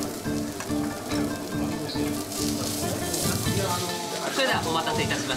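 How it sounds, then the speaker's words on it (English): Teppanyaki cooking on a large stainless steel griddle at a Kyoto eatery, with food sizzling in a steady, close, crackling hiss and some clattering of utensils mixed in. "Food is fried in teppanyaki style on a large stainless steel surface."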